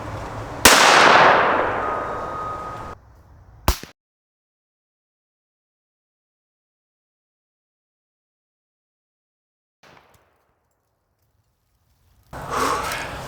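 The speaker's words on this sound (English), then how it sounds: "this 17 Winchester Super Magnum is shredding cans out at 50 and 100 yards" A single sharp rifle report from a 17 Winchester Super Magnum cracks loudly with a decaying tail, followed by a brief click, long near-silence, a faint distant tick and then rustling handling noise.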